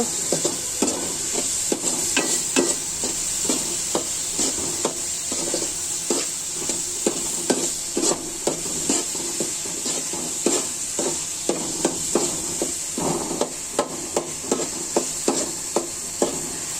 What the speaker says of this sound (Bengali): ডালগুলি একটু ভালো করে নাড়াচাড়া করে নিতে হবে গরম হওয়া পর্যন্ত